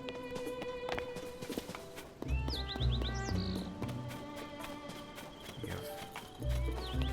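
A donkey in Zelda: Tears of the Kingdom clip-clops along with hoof steps and gives a brief bray-like call, set against game ambience with birds chirping.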